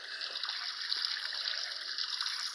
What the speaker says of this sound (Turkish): Aa, elimi yıkayayım birazcık.